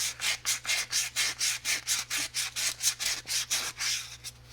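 Emery cloth scrubs white aluminum corrosion off a rusty GM SRX wheel hub in quick, even back-and-forth strokes, about four rasping rubs a second, close and distinct with no talking.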